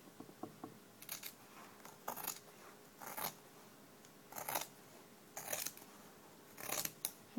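Scissors snip through several layers of tulle skirt fabric in a series of about eight crisp, separate cuts, spaced roughly a second apart, close up in a quiet room.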